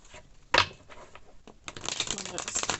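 Tarot cards are shuffled by hand in short, crisp riffling bursts, close up, with a sharp flurry first and a longer rustling run after a brief pause.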